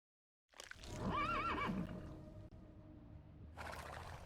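A horse in the game Dead by Daylight gives a loud, close whinny that rises and falls for about a second. Low rumbling game ambience continues beneath it, and a burst of hiss follows near the end.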